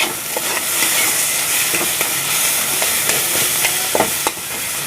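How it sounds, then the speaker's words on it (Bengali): Thick spiced masala for an egg and onion dish fries in oil with a little sugar, a dense close sizzle broken by repeated scraping strokes of a spatula stirring it around the pan. "দেখুন মশলাটা খুব ভালোভাবে কষে গেছে"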